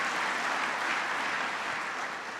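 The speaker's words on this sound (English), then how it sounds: "Deserves a big round of applause." Applause from an audience at a clean energy speech, dense and continuous clapping that holds steady throughout and tapers slightly toward the end.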